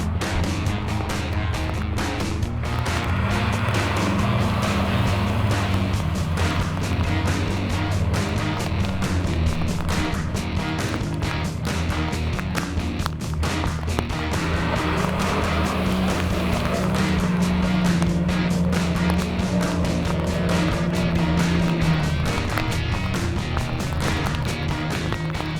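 A 4WD truck pushes forwards through water deeper than itself on a Tasmanian track, its engine droning loud and steady with rising and falling revs over constant splashing and churning for the whole stretch.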